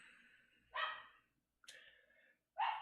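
A dog barks three times in short, separated bursts indoors, loud and close, with quiet room tone between barks.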